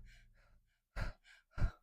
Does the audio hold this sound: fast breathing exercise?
yes